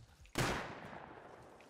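A single loud gunshot in the video game Rust cracks out sharply, then a long reverberant tail fades slowly behind it, with no other shots following.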